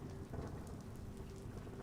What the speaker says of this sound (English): Ooh, it's raining quite heavily now.